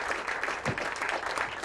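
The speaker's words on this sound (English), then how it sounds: "Give him a lovely round of applause" A comedy club audience claps briefly, a short, moderately quiet patter of applause lasting under two seconds.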